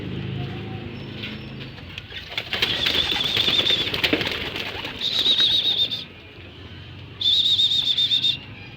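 Young pigeons are released and take flight, a loud burst of close flapping wings, followed by intermittent chirps and coos in short bursts.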